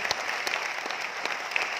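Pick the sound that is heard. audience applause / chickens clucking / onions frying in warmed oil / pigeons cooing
audience applause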